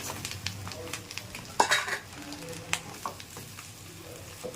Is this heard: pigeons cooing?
no